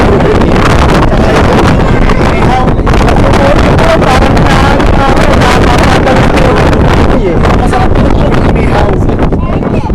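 Strong wind at Buhairat Bay buffets the microphone throughout, a loud, continuous roar with a rushing, boat-like rumble underneath.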